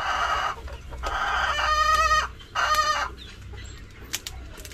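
Several chickens cluck and squawk nearby in bursts, with short rapid calls overlapping against a low background hum.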